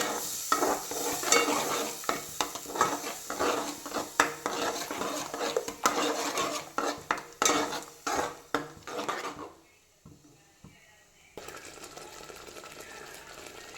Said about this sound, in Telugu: టమాటా, ఉల్లిగడ్డ, దీన్ని కూడా ఇందులో వేసి పచ్చివాసన పోయేంత వరకు దీన్ని వేయించుకుందాము